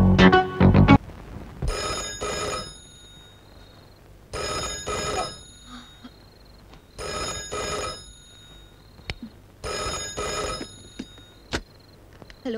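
A telephone rings in four regular double-pulse bursts with quiet gaps between them, loud and near, with a brief burst of other sound at the start and faint clicks and noises later on.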